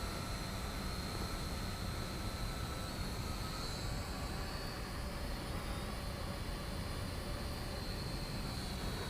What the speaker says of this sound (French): Je vais faire le mode circle à l'aide de la radiocommande. Voilà, le drone va aller se positionner.